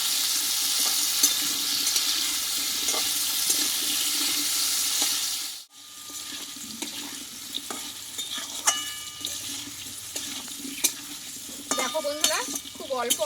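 Potatoes for a Bengali alu potol dalna sauté and sizzle in a pan, a steady broadband frying hiss with a brief dropout partway through, then continuing with scattered stirring scrapes and clinks, close and fairly loud with no talking.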